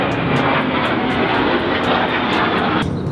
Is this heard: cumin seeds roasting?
no